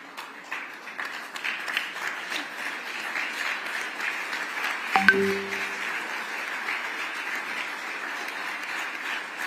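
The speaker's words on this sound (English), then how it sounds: "it cannot be recognized without a standing ovation" Steady broadband applause fills an award ceremony hall as the audience gives a standing ovation, continuous and moderately loud, with a brief tonal chime cutting in midway.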